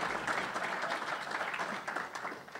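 Faint, steady applause from a crowd at a head football coach's press conference, distant and low in level, holding evenly for a few seconds.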